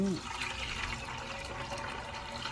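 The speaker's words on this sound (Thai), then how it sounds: "โอเคแล้วก็เทน้ำทิ้ง" Rinse water from a pot of washed rice poured out in a steady broadband splash and trickle, close and continuous, with faint background noise and no talking.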